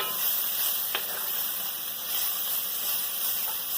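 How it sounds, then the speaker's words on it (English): Meat and cabbage cooking in a pan give off a steady, soft sizzling hiss that stays even throughout at low volume, with no voices. "I'm just going to let that meat cook and that cabbage wilt down"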